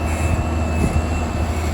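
Green and yellow 7530 farm tractor engine running with a steady, loud drone and a constant whine, heard from inside the cab with no talk.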